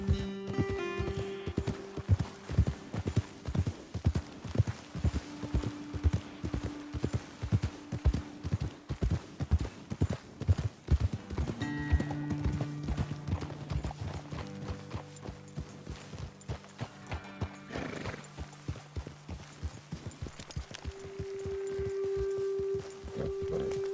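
Horses trot in Red Dead Redemption 2, their hooves clip-clopping steadily and close for the whole stretch, with an occasional snort and faint tonal game sounds underneath.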